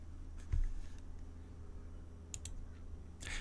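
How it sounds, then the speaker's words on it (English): A computer mouse clicking during a software demonstration: a few faint, sharp clicks spaced a second or more apart over a low room hum, with no talking. "I'm clicking on here."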